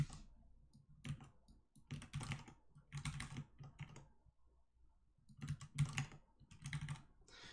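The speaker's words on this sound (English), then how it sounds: "It's just the mechanical keyboard." A mechanical keyboard typed on in bursts of rapid clicky keystrokes with brief pauses between runs, close-miked and steady, with no speech.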